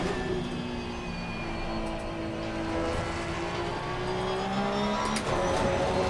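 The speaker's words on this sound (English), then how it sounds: "the engine sound was echoing off the wall there" In the racing game Assetto Corsa Competizione, a race car engine echoes off a trackside wall, a steady high engine whine with rising and falling harmonics and brief tire noise, no speech.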